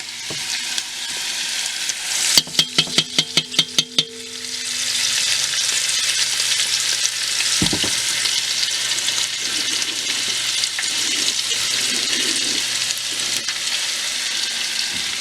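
Garlic and ginger paste fries in a pan over medium heat, a steady close sizzle that swells after a few sharp clicks and taps early on, then carries on evenly without speech.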